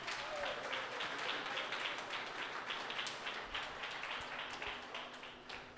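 A church congregation claps during a Portuguese-language Pastor's Day service, steady dense applause filling the room at moderate distance and tapering slightly toward the end.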